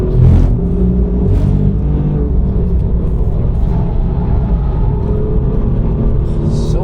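Alfa Romeo Giulia Quadrifoglio with a manual gearbox pulling hard in third gear on the Nürburgring, a steady loud engine drone and rumble heard from inside the car, holding one gear throughout with no talking.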